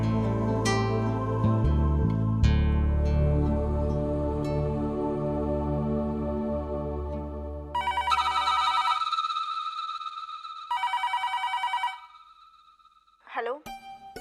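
A telephone rings in a household scene from a Hindi TV drama, with bursts of repeated bell-like trilling in the latter half after music and speech, then a short warbling tone near the end.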